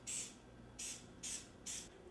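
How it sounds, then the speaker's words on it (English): Four quick hissing bursts of a spray bottle misting water over the top of filo pastries, each a short sharp puff with brief pauses between them. "And then I just spray the top"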